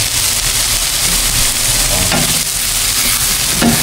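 Seafood frying in a pan, giving a steady, loud, dense sizzle throughout with faint stirring scrapes and no voices.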